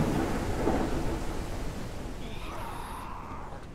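Steady heavy rain with a deep rolling rumble of thunder in the Humanitz survival video game, a continuous loud wash that eases slightly toward the end, with no voices.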